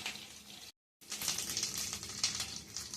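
Chorizo sizzles steadily in a hot pan while being stirred, a close, continuous crackling fry with scraping movement, broken by a brief moment of silence early on.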